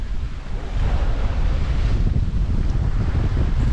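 Strong wind buffets a sailing boat at sea, a steady broadband roar with heavy microphone gusting over washing waves, loud and continuous throughout.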